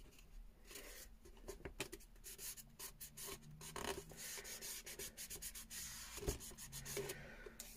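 Hand writing on a steampunk junk journal box, soft, close scratching and rubbing strokes in quick irregular runs, faint and without speech.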